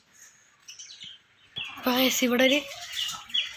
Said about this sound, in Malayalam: ഇവിടെ കിളികളുണ്ട്